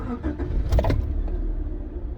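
A Rover 416SLi automatic fires up on the button: a brief cranking burst followed by a smooth, steady low idle, heard close with no talking.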